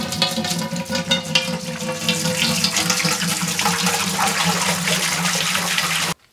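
Steady rush of distilled water pouring into a pot, close and continuous, with a deepening tone as it fills, then stopping abruptly.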